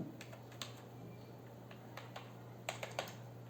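Computer keyboard typing with light, irregular keystrokes in short clusters, a few sharper taps near the end, faint and close over a steady low hum.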